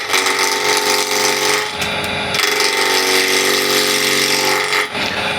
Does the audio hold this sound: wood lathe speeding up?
yes